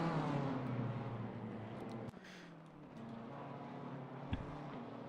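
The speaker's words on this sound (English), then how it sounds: "Two sister BMWs fighting each other here." Two sister BMW GT4 race cars battling for position in an online racing video game endurance qualifier, steady engine drone with a sharp shift cut and a brief revving blip, no talk.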